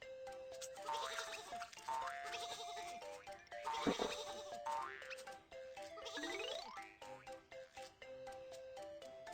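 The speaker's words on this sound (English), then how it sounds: "Some sheep are on the train track." Cartoon sheep bleat repeatedly in a game, their wavering calls mixed with bouncy boing effects and cheerful music.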